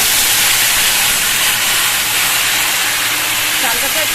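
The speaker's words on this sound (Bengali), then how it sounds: "আমি এবার চালটাকে অ্যাড করছি।" Boiled rice drops into a hot pan of sizzling spice tempering, setting off a loud, steady, steamy hiss close by, with a voice talking beneath it.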